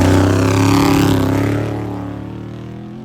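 An unlimited-class desert race truck with any power adder and any size engine accelerates off the start with a loud, deep, rising engine roar that fades as it pulls away.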